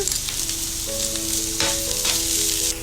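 Carrot and capsicum stir-frying in a pan over a slow flame give a steady, close sizzle with faint scraping from stirring, and no one speaks.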